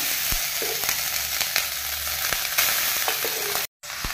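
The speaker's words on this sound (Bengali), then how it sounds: "প্রথমে আমি এই বাদামটাকে একটু ভেজে নিচ্ছি।" Nuts frying in a pan, a loud crisp sizzle dotted with sharp pops and clicks, close up and without talk, cutting out briefly just before the end.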